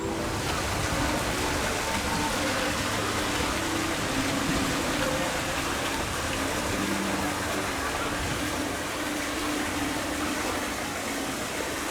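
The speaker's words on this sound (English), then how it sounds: "just the sound of the waterfalls" Waterfalls on the Merlin's Quest boat ride at Toverland give off a steady, dense rush of falling water that fills the whole stretch without a break.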